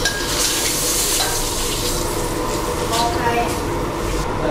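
Fish bones deep-frying in hot oil for sweet-and-sour sea bass, a dense, loud and continuous sizzle with no letup.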